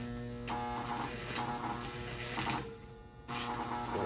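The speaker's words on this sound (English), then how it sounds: "So I have a puddle of molten steel right now" A homemade carbon arc torch melts a puddle of steel with a steady electric buzz and hum, harsh and continuous, with brief crackling surges, close by and alone without talk.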